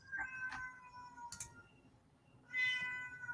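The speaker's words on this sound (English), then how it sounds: "I hear a cat" A house cat meows several times at low volume in a quiet room, a couple of short calls early, then a longer, stronger meow near the end, with silence between.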